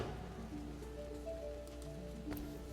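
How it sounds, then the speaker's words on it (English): Steady rain washes across a surface in the fantasy role-playing game Divinity: Original Sin, a dense continuous hiss with faint drips, layered under soft tonal game music and a brief sharper knock near the end. "Sounds like it's raining."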